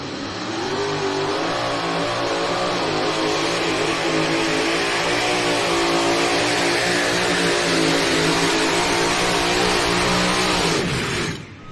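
A pulling truck roars under heavy load at an NTPA truck and tractor pull in Sandwich, Illinois, its engine screaming loud and sustained with rising and wavering tone before abruptly shutting down.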